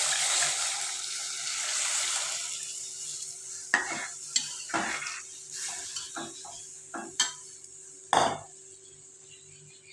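A buttermilk and gram flour mixture for kadhi is poured into a pan and stirred, giving a steady soft hiss with scattered close spoon clinks and scrapes against the pan.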